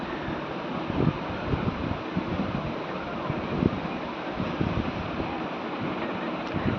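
Rushing water at Muttal waterfall makes a broad, steady roar mixed with wind noise on the microphone, constant with no clear voices.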